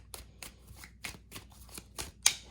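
A deck of cards being shuffled by hand, a series of crisp riffling bursts at a steady rhythm, close and fairly quiet, with no talk.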